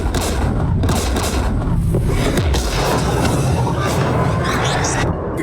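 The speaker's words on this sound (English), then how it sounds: "We're taking fire." In Mass Effect 3, gunfire and explosions pound a ship: a continuous dense barrage of booms and crackling impacts, loud and close, with no pause.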